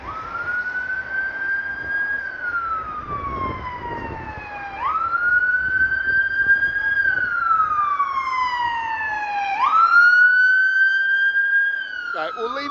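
A wailing emergency vehicle siren on Blackpool promenade rises and falls in long sweeping cycles, loud and steady, with traffic rumble underneath.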